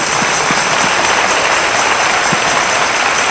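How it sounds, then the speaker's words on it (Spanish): Dense, steady applause from an audience at the opening ceremony of a Special Olympics event, a loud continuous wash of many hands clapping with no voices standing out. "fuerte aplauso para agradecer la intervención de la doctora Yolanda Blanco"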